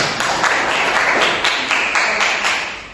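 Hands clapping together in a ninth-grade classroom during a microteaching lesson on globalization, a steady dense patter of moderate loudness lasting throughout.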